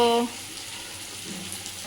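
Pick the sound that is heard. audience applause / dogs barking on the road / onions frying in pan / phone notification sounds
onions frying in pan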